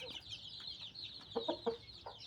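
A fighting rooster gives a few short, soft clucks over a thin, high background hiss, with the sharpest bursts clustered near the end.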